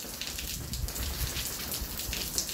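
Rain falls steadily on Abaco, a dense even patter with soft irregular drops. It is close and continuous, with no voices.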